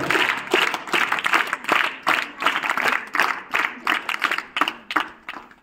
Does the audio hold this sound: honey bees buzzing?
no